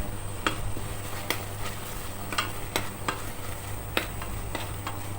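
Beef is stir-fried with curry paste in a pan for a Thai kaeng khi lek curry with grilled beef: a steady sizzle is broken by repeated, rhythmic scrapes and stirs of the utensil against the pan, with no talking.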